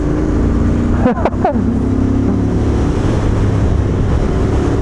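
A Royal Enfield Interceptor 650 motorcycle accelerates on a road, giving a loud, steady engine roar mixed with heavy wind rush, plus a brief burst of higher-pitched whine around the middle.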